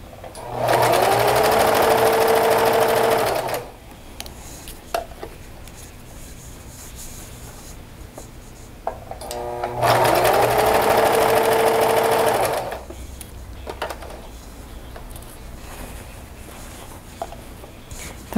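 Sewing machine stitching fabric in two loud, steady runs of about three seconds each, separated by quieter pauses with faint handling sounds.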